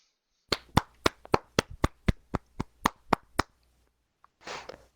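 Around a dozen sharp, evenly spaced hand claps ring out at a debate event, then stop, with a brief rustling burst near the end.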